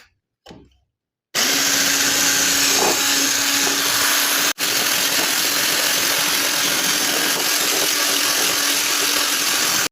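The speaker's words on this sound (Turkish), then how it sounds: "Öncelikle yumurtamızı ve toz şekerimizi kar kıvamına gelene kadar çırpıyoruz." Electric hand mixer whisking eggs and sugar to a stiff foam for a cake, a loud steady motor whir after a brief start, running continuously with one short cut-out midway, close up and without talk.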